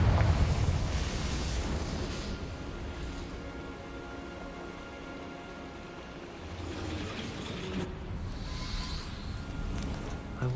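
A Confringo fire-blast spell explodes in Hogwarts Legacy: a loud, deep, rumbling roar that begins strong, eases off, then swells again, sustained for about ten seconds with no voices.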